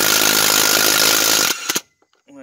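A power tool removes 9/16 brake bolts during rear brake work on a 2004 Ram 3500 dually, running loud and steady up close for about a second and a half, then two short bursts before cutting off. A voice briefly follows.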